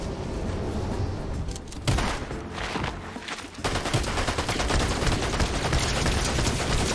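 Loud, continuous weapon fire in Fortnite build mode, dense rapid shots blending into a sustained roar with a brief dip before resuming, no talking.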